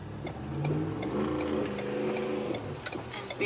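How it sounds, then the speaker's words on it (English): Big trucks roll past while driving through Niagara Falls, their engines droning and revving steadily at mid pitch, fairly loud and close, with faint tonal rises and a brief tapering at the end. "And big trucks that go vroom vroom."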